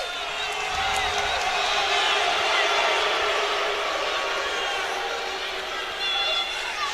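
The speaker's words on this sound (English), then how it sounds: "This crowd going nuts like Incontrera's winning the national title." A wrestling crowd at an Iowa versus Penn college dual meet cheers loudly and continuously, a dense roar with whoops that rises slightly mid-clip and holds steady throughout.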